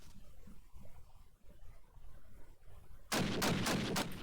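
Machine gun fire in a competitive online shooter match, a rapid run of loud bursts cutting in after a stretch of faint ambient battlefield rumble, with no talk.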